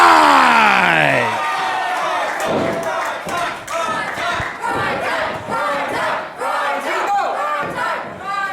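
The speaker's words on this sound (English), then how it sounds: "And the crowd goes wild." A packed wrestling crowd roars and whoops loudly at an event, a rising yell at the start breaking into sustained cheering with thumps and bursts of shouting throughout.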